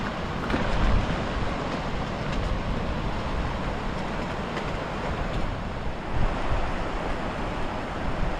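Steady roaring wind and driving rain on a mountain buffet the microphone with a constant rushing wash, loud and continuous with occasional stronger surges.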